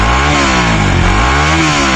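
A Bajaj Pulsar RS200 motorcycle exhaust revs loudly up close, with a steady gruff drone that dips and swells through short throttle blips. No voices are heard.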